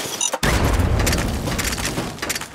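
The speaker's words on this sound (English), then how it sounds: "the explosion knocked the medics off into this junk pile" A loud, booming explosion hits abruptly in a video game with super mutants, followed by a dense, crackling roar of debris and rumble that stays strong for a couple of seconds.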